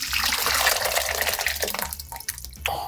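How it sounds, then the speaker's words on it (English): Blended tomato soup is poured into a bowl as a continuous close liquid rush that thins toward the end into a few splashes and drips. "I'm going to take this second batch and I'm going to dump it inside the bowl."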